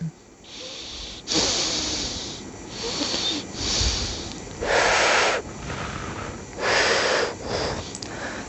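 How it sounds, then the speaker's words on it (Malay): Loud, deliberate breaths blown close into a wireless headset microphone, several long rushing inhales and exhales in an uneven rhythm with short pauses between. "So sekarang aku akan cuba untuk bernafas dengan kuat."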